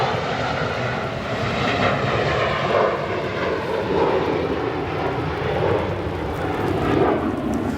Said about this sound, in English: That 767 makes its way onto taxiway Papa